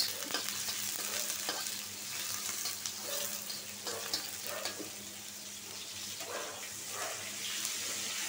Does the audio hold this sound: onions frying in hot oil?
yes